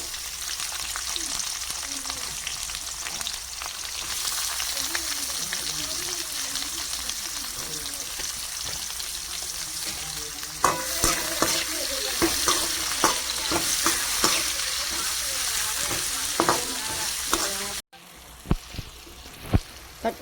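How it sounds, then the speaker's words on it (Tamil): Chopped onions sizzle in hot oil for a squid curry, a continuous frying hiss broken by stirring scrapes and clinks that grow busier toward the end, with no voices. "குழம்புக்கு தேவை எண்ணெய் சூடாயிட்டு போட்டுக்கலாம். இது வெட்டி வச்ச வெங்காயம்."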